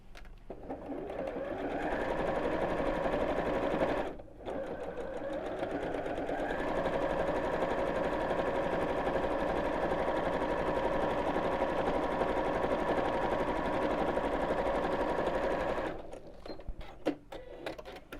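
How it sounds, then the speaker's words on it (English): A sewing machine top stitches across a seam on a reversible bag, a steady mechanical whir running close and continuous for most of the stretch, with one brief pause early on and a stop near the end, and no voices. "I'm just going to top stitch across the seam here."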